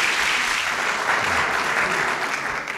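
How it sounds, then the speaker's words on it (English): An audience at a volunteer action awards ceremony applauds President Reagan with a dense, sustained wash of clapping that holds steady, then begins to taper at the end. "thank you very much for the applause"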